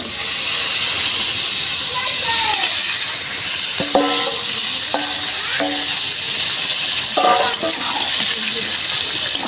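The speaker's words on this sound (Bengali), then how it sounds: "এবারে আমি সিদ্ধ করে রাখা মটরটা দিয়ে দেবো" Boiled peas going into a pan of fried spices for ghugni, bringing a loud, steady hiss of sizzling with a few clinking taps of a utensil against the pan.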